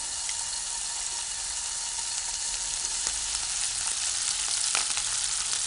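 Rashers of bacon snipped into a hot pan, frying and sizzling in a steady close crackle with a few sharper pops, no talking.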